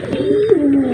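A racing pigeon perched atop its loft gives one close, loud, drawn-out coo that dips and swells, alone without other sounds.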